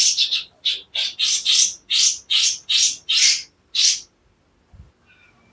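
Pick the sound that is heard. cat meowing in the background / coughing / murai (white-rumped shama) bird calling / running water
murai (white-rumped shama) bird calling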